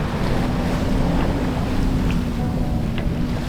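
Sailboat Avocet under way near Guaymas, Mexico: steady wind buffeting the microphone over continuous wave and hull-wash noise, with faint creaks and splashes, no talk.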